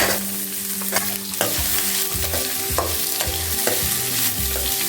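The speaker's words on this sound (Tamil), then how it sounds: "இப்போ எல்லாத்தையும் சேர்த்து வதக்கிக்கலாம்." Onion and garlic sizzle and fry steadily in a hot pan, with repeated scraping stirs of a spoon at a regular pace, close up and without any voices.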